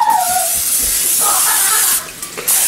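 An aerosol can of lubricant sprays in a loud, continuous hiss, pauses briefly, then hisses again in a short final burst.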